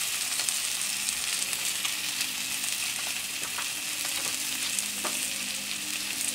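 Meagre fish cooking on a plancha with Landes peppers, courgettes and herbs, giving a steady, dense, even sizzle close by, with faint crackles throughout and no talking.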